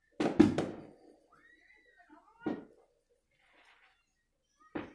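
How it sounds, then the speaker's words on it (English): Three dull Fourth of July fireworks booms thump in the distance, spaced a couple of seconds apart, with near silence between them. "How many fireworks do they have?"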